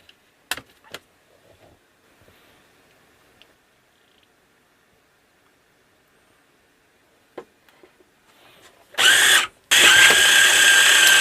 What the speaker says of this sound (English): we're going to pulsate that a little bit